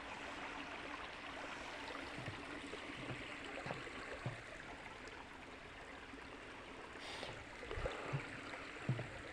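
A small brook in South Hadley, Massachusetts, runs through hilly wooded trails, giving a steady, soft bubbling and trickling wash with a few faint splashy ticks near the end, heard alone without voices.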